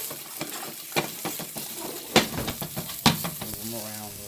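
Onions, parsnips and turnips sizzling in butter, a constant frying hiss with sharp stirring scrapes and clinks as the vegetables are moved around the pan, close and fairly loud with no talking.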